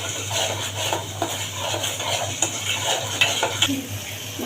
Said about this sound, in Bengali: এখন ভালোভাবে মশলাটা ভেজে কষিয়ে নেব।